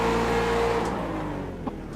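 A Mustang race car spinning donuts in the iRacing sim at Road America gives a steady, droning engine note that holds and then eases slightly, with no voices over it.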